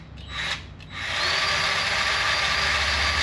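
A grease gun pumping grease on a 1977 Corvette, a short mechanical burst followed by a sustained whirring drive, close and steady, with no talk.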